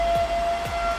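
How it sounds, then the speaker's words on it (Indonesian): An end-of-workday siren sounds at a bus body factory, a steady piercing tone held throughout the short moment over low background rumble. "jangan heran ya, ada sirine kayak gitu. Itu adalah sirine bel pulang."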